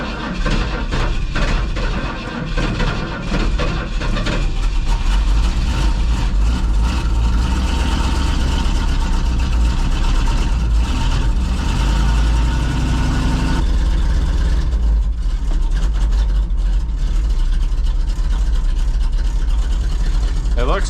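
Car engine sputtering while low on fuel, a loud, rough, uneven rumble that runs throughout and drops in intensity near the end, with a person talking over it.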